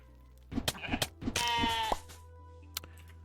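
Sheep bleat in the video game Necesse, several short bleats in quick succession followed by one long, wavering cry, then a quiet pause and a faint click.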